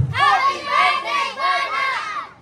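A group of children shouting together during a game at a first birthday party, several loud, drawn-out shouts in quick succession close by.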